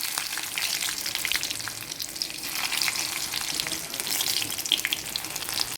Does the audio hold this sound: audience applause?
no